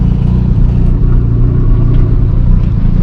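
A car with a Chippernut shift light runs close and loud on a drive, its engine giving a dense continuous low rumble with slight pulsing and no talking.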